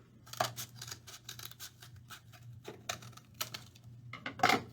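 Scissors snipping through a cardboard paper roll along a drawn diagonal line, a run of short, irregular close-up cuts and rustles, with a louder crunch near the end; no one speaks.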